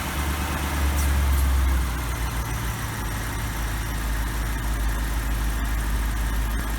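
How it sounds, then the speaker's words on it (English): A BMW E64 650i, due for a PCV valve replacement because of exhaust smoke, idles steadily at mid idle, with a deep, constant engine hum and a slight swell near the start, close and alone. "It's on its mid idle right now."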